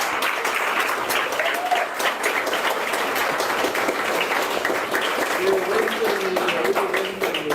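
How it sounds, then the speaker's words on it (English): Sustained audience applause fills a room at a political party's manifesto launch, dense steady clapping throughout with crowd murmur and voices mixed in. "we deserve a round of applause"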